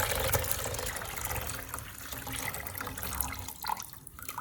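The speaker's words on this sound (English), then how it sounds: "The red onion soak is now ready to be poured into the basin" Warm red onion soak water scented with rosemary is poured into a basin, a close splashing and trickling pour with uneven bursts and small drips toward the end.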